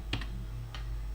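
Two or three quick, light key taps on a computer keyboard, close and quiet, over a low steady hum.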